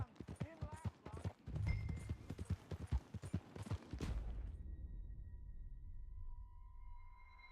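Horse hooves clip-clopping in a Western-themed video game, a steady rhythmic trot under people talking, then continuing alone after the speech stops.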